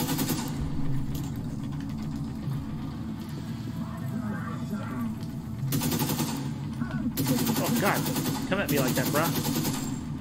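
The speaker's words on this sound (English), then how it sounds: "Who's shooting me?" Automatic gunfire from The Division 2 open beta crackles in repeated bursts over a steady game background, with someone talking through much of it.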